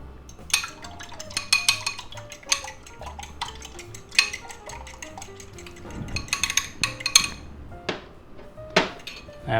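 Two eggs are beaten in a bowl with a utensil, giving quick, irregular clinks and taps against the bowl, close and fairly loud with no talking.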